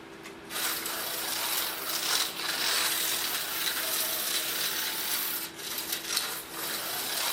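An Auto World HO slot car truck running on its track, a steady whirring, rattling motor drone close by, with slight dips where the truck struggles through a rough section of track.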